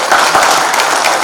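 Loud, dense audience applause at a BIET 1995 alumni Guruvandana gathering in Karnataka, a steady wash of many hands clapping close by.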